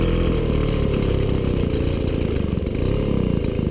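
A 1970 Motobécane 50V moped engine runs loud and close with a rapid, buzzing putter as it burns the last of its fuel, sustained without pause.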